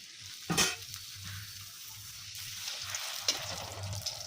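Gupchup puris fry in a pan of hot oil with a steady, close sizzle, broken by a few sharp spatters and a scrape of the frying spoon.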